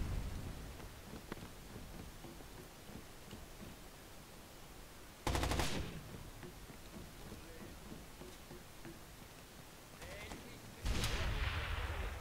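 Gunfire in the video game Rainbow Six Vegas 2, two loud bursts of shots cutting through a steady low battlefield rumble, with a voice faintly in the background.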